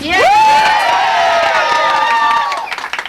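A crowd of state employees at a rally cheers and shouts loudly, a dense roar of many voices with whoops that stays strong, then fades near the end into scattered claps.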